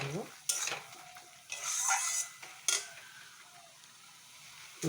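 Chutney sizzles in a pan while being stirred with sugar, with several loud scraping strokes of the spoon between steady frying hiss, close by and with no talk.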